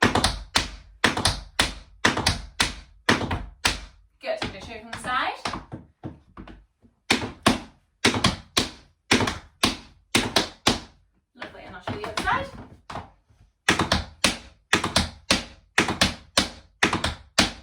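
Crisp tap shoe shuffles in quick repeated bursts of three, loud and close, with short pauses where a person speaks between runs.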